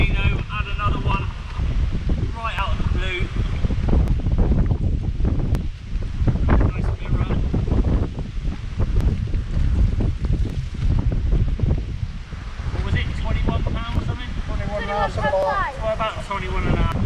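Wind blowing hard across a lakeside carp fishing swim, a steady broadband rush with gusty buffeting on the microphone, with someone speaking over it throughout.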